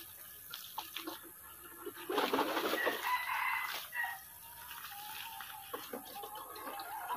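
Lohmann Brown chickens in a coop, with soft clucking and a few calls against a steady hiss of background noise, somewhat distant, with no talking.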